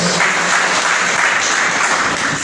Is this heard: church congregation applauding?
yes